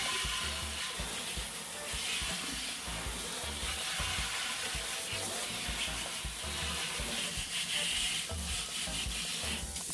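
A Sega Genesis console's plastic cover being scrubbed and washed in a sink, with steady rubbing and scraping under running water, close and continuous throughout.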